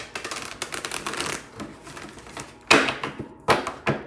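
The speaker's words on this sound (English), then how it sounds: "it doesn't want to shuffle today, these cards." Cards riffle and flutter in quick bursts, with a brief pause and then a few sharper shuffling snaps near the end.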